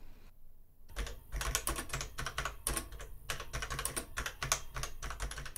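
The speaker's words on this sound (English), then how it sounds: "where this keyboard comes to life is typing" Fingers type on a ZX Spectrum computer keyboard, producing a close, rapid run of crisp, uneven key clicks after a brief pause. No one speaks.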